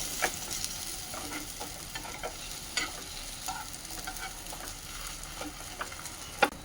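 Vegetables fry in a little oil for veg rolls, a steady moderate sizzle with repeated stirring scrapes and a louder knock at the end, no one talking.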